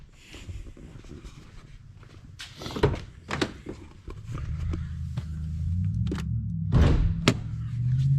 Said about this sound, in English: Let's pop the hood first and show you what I did underneath.